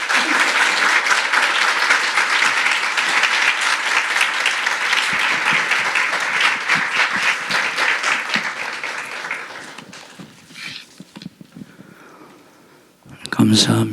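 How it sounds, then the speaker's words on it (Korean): A church congregation at a revival meeting claps in a loud, dense round of applause for an arriving pastor. The clapping holds steady, then thins and fades, and a voice comes in at the very end. "우리 존경하는 유강신 목사님 나오실 때 우리 큰 박수로 환영해 주시면 감사하겠습니다"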